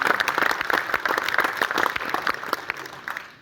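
An audience at a public gathering in Karjat gives loud, sustained applause, many hands clapping together and slowly tapering off toward the end.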